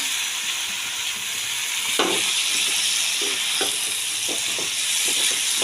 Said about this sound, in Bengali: সেই জন্য আমি মাছ দিয়ে ভালো করে একটু কষিয়ে দিচ্ছি।